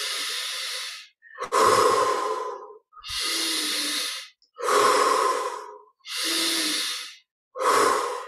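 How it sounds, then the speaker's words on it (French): Slow, deep breaths during a guided yoga meditation, six long inhale and exhale cycles of about a second each, close and fairly loud with brief pauses between them, no talking. "Cinq, respire encore."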